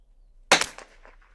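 A single sharp crack from a Bergara BMR .22 LR rifle, followed by a short rattling echo that fades quickly, close and alone.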